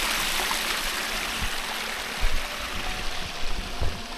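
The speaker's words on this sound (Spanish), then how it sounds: "Este es como un desagüe de la poza. Y pues aquí sale bien clarita el agua" Clear water pours steadily out of the drain of a natural pool at Poza Carcagua in Santa Ana, El Salvador, a continuous close rushing flow with a few louder splashes and gurgles toward the end.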